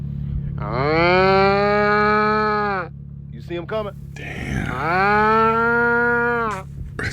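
Two long, loud cow moos sound close by, one after the other with a short gap, and someone speaks briefly between them.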